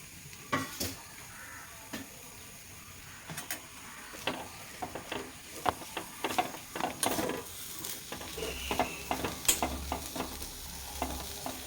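Grated coconut roasting in a pan for sambar, with a soft sizzle and repeated scraping stirs of a spoon against the pan at an uneven pace, close and fairly quiet.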